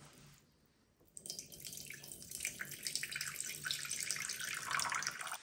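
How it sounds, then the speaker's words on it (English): Excess water draining from the pipe of an EcoFlow Glacier portable refrigerator. A short quiet pause gives way to a steady, close splashing stream of water pouring out and running continuously. "You pull the pipe out and just drain it out."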